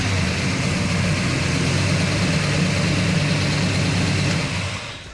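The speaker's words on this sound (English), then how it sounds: "It's powered by a 427 small block that's on fast idle right now." A 427 small-block engine in a restored 1957 Chevy truck runs at fast idle while warming up, giving a steady, loud, close rumble that holds even throughout.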